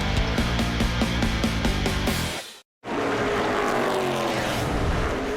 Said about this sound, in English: as we ride on board now with the Castrol Edge Dodge